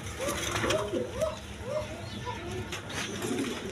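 Pigeons, including German Beauty breeds, coo in a series of soft, rounded throaty calls over a few seconds at a market, with a faint murmur of background voices and noise.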